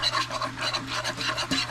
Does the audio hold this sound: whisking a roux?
yes